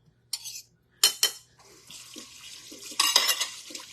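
Kitchen tap running in short bursts while vegetables are rinsed, with splashing water and clinks of dishes in a quiet home kitchen, close and intermittent with no talk.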